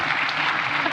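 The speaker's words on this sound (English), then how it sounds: "You got a round of applause." An audience at a joint IMF and World Bank seminar on debt reform applauds, a steady, dense patter of many hands clapping close by and filling the room throughout the short burst.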